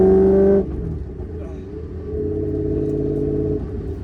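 A V8-swapped right-hand-drive BMW E30's engine rumbles loudly up close, dipping then building again in a steady low drone as it revs.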